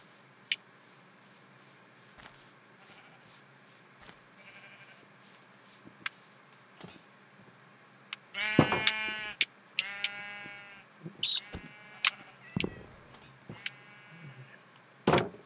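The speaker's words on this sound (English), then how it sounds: "Okay, I'm gonna go shear some sheep." Sheep in the Minecraft video game bleat in a quick cluster of short, clear calls midway through, standing out over a quiet background of soft game ambience and occasional faint clicks.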